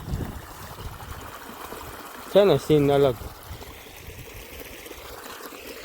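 Irrigation water flows into a groundnut field with a steady, faint wash that runs the whole time, briefly interrupted by a short burst of nearby speech.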